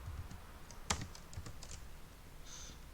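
Scattered keystrokes on a computer keyboard, a handful of light, quiet clicks with one sharper tap, close and alone without speech.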